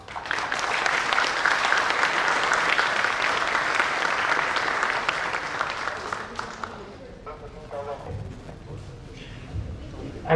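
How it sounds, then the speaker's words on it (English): Audience at a CEO conclave of an alumni association breaking into sustained applause, a broad crowd of clapping hands that swells loudly, then thins and dies away after about seven seconds as voices and room murmur take over. "let us start this beautiful event with a massive round of applause"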